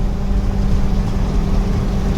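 A 1987 K20 Squarebody Suburban with a swapped 5.3 LS engine and SM465 four-speed manual, cruising around 85 mph at about 3,300 RPM: a steady, heavy low drone with road rumble, loud and unbroken.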